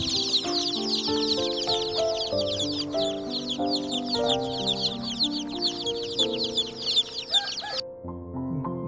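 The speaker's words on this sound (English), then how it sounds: "Chicken." Chickens cluck in a busy, continuous stream of short, rapid calls over a steady background of tonal music, ending abruptly near the close.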